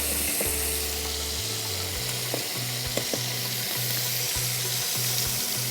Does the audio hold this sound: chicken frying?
yes